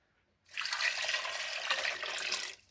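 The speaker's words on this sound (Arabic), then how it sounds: "ودابا غادي نزيدو الماء" Water pours from a tap into a pot of chopped zucchini, carrot, turnip and potato, a steady close splashing rush that starts abruptly, runs about two seconds, then stops.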